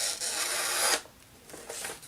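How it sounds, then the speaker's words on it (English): A sharp, cheap tuned-up hand plane shaves wood in one long smooth stroke, close and clear, followed by fainter short scraping strokes. "Now if it's cutting like that, that is pretty goddamn sharp."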